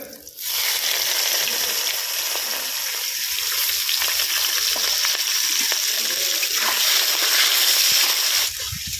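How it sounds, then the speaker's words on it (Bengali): Chopped onions hit hot oil after a spice tempering for a village-style country chicken curry, setting off a loud, steady, close sizzle that holds for several seconds with no talking. "পেঁয়াজটাকে একটু ভেজে নেব।"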